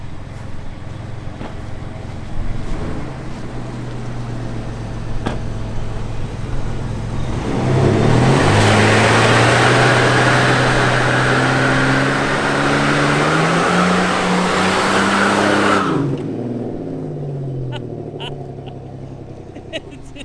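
A car spins its wheels while trying a donut at Motion Raceworks, with a loud rising engine roar and tire noise that swells in the middle, then drops away. People talk over it.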